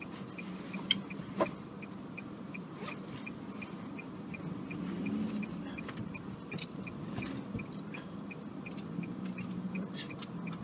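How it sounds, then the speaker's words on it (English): Road traffic on a workday commute near a museum: a steady, faint, low rumble of idling and slowly moving vehicles with light ticking and small knocks, no voices. "I'm just going to have to wait until the traffic moves"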